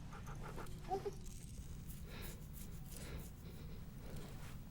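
Dog panting in The Walking Dead: The Final Season video game, a soft quick breathy rhythm close by over a steady low background rumble, with a couple of brief small clicks early on.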